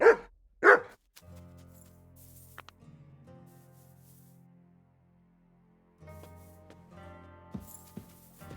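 Two sharp dog barks in Kingdom Come Deliverance 2, loud and close at the very start, then a long stretch of quiet background music with no further barking.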